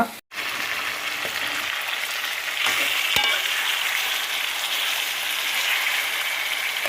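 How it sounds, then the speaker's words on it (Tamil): Turmeric-boiled chicken pieces sizzle steadily in a hot kadai as they are stirred into masala, a constant close frying hiss with a few faint scraping knocks of the spoon. "இதை வந்து இப்போ கடாயில் சேர்த்துக்கலாம். இதை நல்லா மிக்ஸ் பண்ணி விட்டுக்கோங்க."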